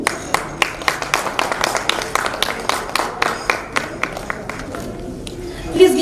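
A conference audience claps, with a sparse, uneven scatter of distinct hand claps that thins out and fades toward the end, fairly close in a quiet room.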